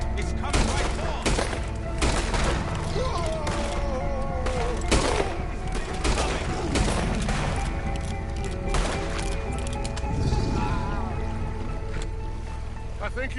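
Repeated gunshots at an alligator in Red Dead Redemption 2, sharp cracks spaced irregularly across the stretch over splashing water and a steady background wash, with voices talking throughout.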